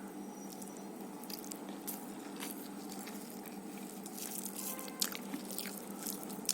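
Rice and curry eaten by hand at close range, with soft, wet chewing and small smacking sounds over a low room hum, plus a couple of sharper taps and no talking.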